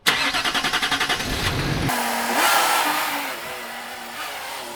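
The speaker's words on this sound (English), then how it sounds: "Did you notice how poor this thing starts? It needs quite a bit of cranking" A Land Rover Discovery SDV6 diesel cranks with a rapid, even chugging for nearly two seconds before catching, then settles into a steady, fairly loud idle with some rising revs, close by and with no talking.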